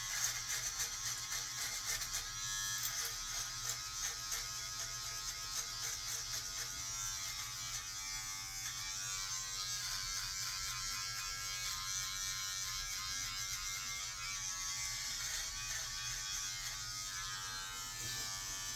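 An electric beard trimmer buzzes steadily and continuously as it shaves a path down the middle of a beard, a dense, close, unbroken whir with no voices.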